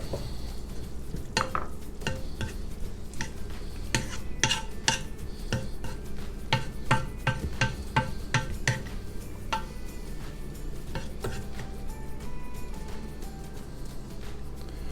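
A spoon scrapes and clinks steadily against a pot while stirring sloppy joe sauce of soy sauce, Worcestershire, brown sugar and water in a Ninja Foodi or Instant Pot, close and continuous with no talk.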